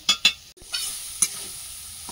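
Chow mein and vegetables stir-fried in a small wok, a few quick spatula scrapes and clacks over a soft background sizzle.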